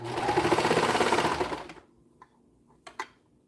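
Sewing machine stitching in a rapid, even mechanical buzz for under two seconds, close and loud, then stopping, followed by a few faint clicks and handling taps.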